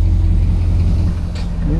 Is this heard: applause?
no